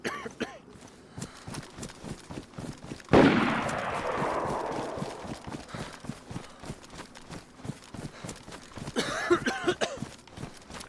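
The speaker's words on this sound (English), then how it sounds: "That guy's not shooting at me, he's shooting at him." Gunfire in DayZ, a loud close shot at about three seconds with a long decaying tail, then another burst near nine seconds, over a steady patter of footsteps.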